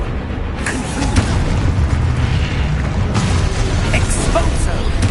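The Confringo spell explodes in Hogwarts Legacy as a loud, dense booming crackle with sharp bursts scattered through it. Constant background noise and game sound run underneath, and a voice calls out in the mix.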